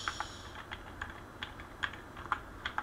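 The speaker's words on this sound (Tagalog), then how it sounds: "i-type in nyo lang ito and then enter" Keys on a computer keyboard are tapped in a quick, irregular run of light clicks, close and fairly quiet, with no voices over them.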